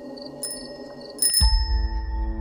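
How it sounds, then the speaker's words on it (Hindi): A bicycle bell rings once at night in a rural village, a bright metallic ding with a lingering tone, set against a low ambient drone that swells just after it. "तभी उस सन्नाटे को चीरते हुए एक साइकिल की घंटी सुनाई दी।"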